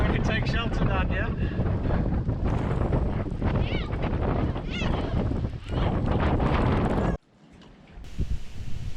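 A rain squall with strong wind hits a catamaran at anchor, a loud, continuous buffeting roar with rattling gusts that suddenly drops away near the end before the wind picks back up more softly.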